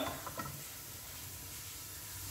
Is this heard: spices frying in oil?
yes